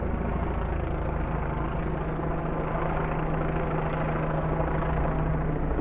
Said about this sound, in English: It looks like the helicopter is back.